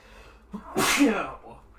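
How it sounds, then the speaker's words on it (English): One close, loud sneeze bursts out with a sharp intake and explosive release, heard indoors amid a quiet background. "I sneezed."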